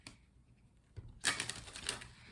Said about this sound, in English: Let's do some shuffling first.